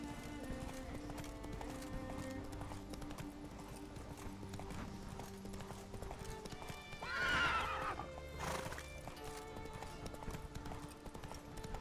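Hooves of Roach the horse in The Witcher 3 beat out a continuous, even clip-clop against soft in-game background sound, broken partway through by a loud neigh and a short snort.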